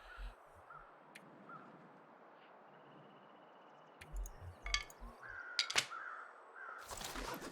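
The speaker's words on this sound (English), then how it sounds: "Owls sound a little angry today." Owls call in the snowy wilderness of the survival game The Long Dark, harsh cries rising over a low wind bed, with a few sharper louder calls toward the end and no talk.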